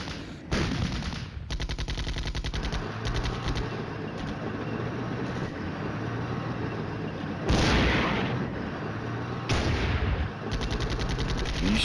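Dense gunfire from the Soviet campaign of the wargame Flashpoint Campaigns: Red Storm: sustained rattling machine-gun bursts and heavy booming shots, loud and continuous, with sharper blasts near the middle and end.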